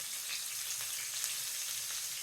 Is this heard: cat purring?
no